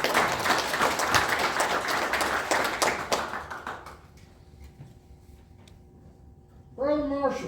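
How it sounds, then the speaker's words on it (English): Applause fills a Masonic lodge officers' installation for Ron, a warm burst of many hands clapping that fades out, followed by quiet and then someone speaking. "We ought to give Ron applause for coming out today"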